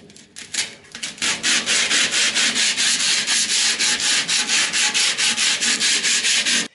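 Coarse 36-grit sandpaper on a sanding block scrubbing over car body filler, loud steady back-and-forth strokes in a brisk even rhythm, close and alone.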